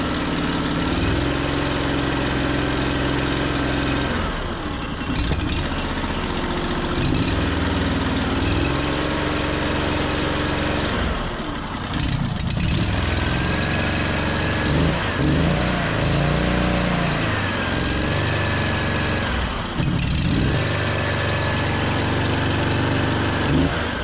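A double drum roller's engine idles low and steady close by, a continuous rumbling drone with a few brief shifts and small surges in tone, heard alone without talk.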